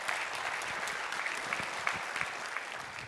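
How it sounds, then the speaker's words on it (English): Steady audience applause at a marketing conference talk, dense clapping with a few sharper individual claps standing out, moderately loud and unbroken. "I actually just wanted you to applaud for me"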